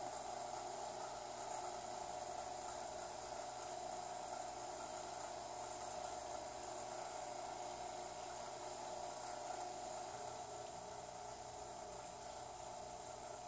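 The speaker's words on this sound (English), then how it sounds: "Here you can see me turning on a turbomolecular pump." A turbomolecular pump spins at high speed, giving off a constant faint high-pitched whine over a low steady hum that holds without change.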